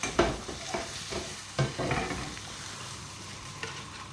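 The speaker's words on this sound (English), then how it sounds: "when the pork steaks are fried on both sides" Pork steaks frying in a pan, a continuous close sizzle with intermittent scraping and turning knocks from a utensil, no talking.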